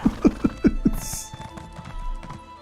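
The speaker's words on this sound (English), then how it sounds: "I'm gonna get on my horse just to go up these steps" Horse hooves clip-clop in the Elder Scrolls Online video game, five distinct close hoofbeats in a quick steady rhythm at the start, then fainter footfalls and game ambience.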